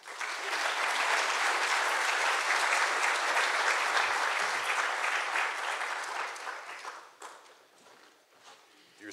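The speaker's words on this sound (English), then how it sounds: "You're supposed to clap a little bit longer so I can make it back." Audience applause at the 2015 New Mexico First Forum awards, dense steady clapping from a large crowd filling the room for about seven seconds, then thinning out and fading as a voice begins.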